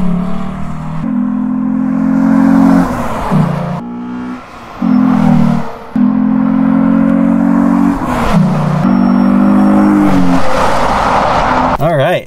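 A 2012 Ford Mustang V6 driving, its engine droning loudly and steadily with rises and brief drops between gear changes, heard close from inside with people speaking intermittently.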